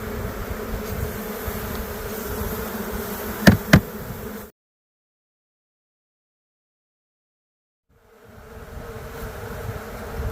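Dense buzzing of a cloud of honey bees around a hive with few brood and honey stores, steady and close for several seconds, cutting to silence, then the hum returning more faintly.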